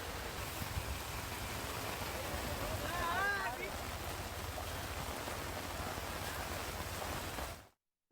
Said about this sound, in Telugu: తెలంగాణ వ్యాప్తంగా భారీ వర్షాలు కురుస్తున్నాయి